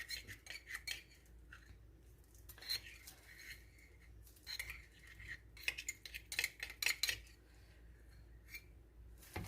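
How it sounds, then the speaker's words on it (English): A utensil whips melted butter and honey together in a bowl, making quick, irregular clinks and scrapes in short bursts with brief pauses, close and fairly clear. "Let's go ahead and mix our honey with our butter."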